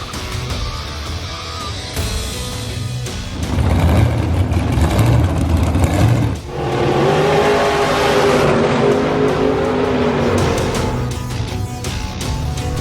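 A 1976 Ford 427 FE side-oiler V8 runs in a tubbed muscle car, loud and close, rising into a heavier rev partway through and then holding a rough, steady drone.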